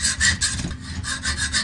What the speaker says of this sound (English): I'm taking a file, a metal file. This works pretty well. And just kind of rounding off the cut